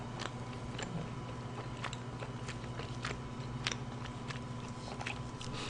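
Close, moist chewing of a soft, chewy rice cake coated with beans, steady smacking bites repeating through the stretch with no talking.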